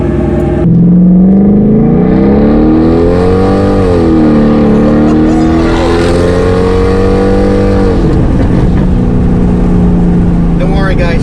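A supercharged car engine revving hard on a dyno, loud and close, with a sustained rising drone that dips and climbs again before settling to a high idle.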